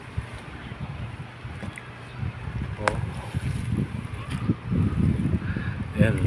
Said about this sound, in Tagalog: Medyo may kalakasan yung hangin.